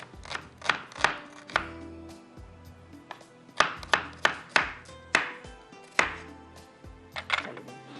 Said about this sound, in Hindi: बारीक बारीक बस आप प्याज काट लीजिएगा